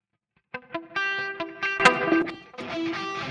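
An electric bass through a distortion effect plays a few sustained notes with gritty harmonics and a slight chorus shimmer, loud and close, no voices.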